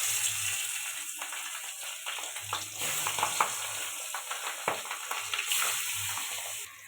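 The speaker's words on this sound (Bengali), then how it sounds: "কড়াতে মাছ দিয়ে দেবো" Pabda fish frying in hot salted oil in a wok, a steady close crackling sizzle with occasional spatters and stirring scrapes throughout, no voices.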